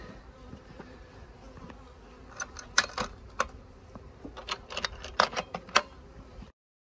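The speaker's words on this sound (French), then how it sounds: "On a des vraies abeilles." Honeybees buzzing at a hive while a super is set on top and closed: a steady low hum of many bees, with scattered knocks and clicks of the wooden parts, close by, no talk.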